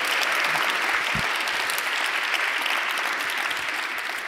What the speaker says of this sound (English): Can we just get one more round of applause for Dr.